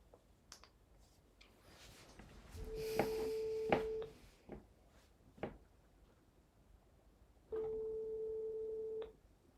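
A telephone line ringing out on an outgoing call, two long steady electronic rings separated by a pause, with faint clicks and background noise between them and no talking.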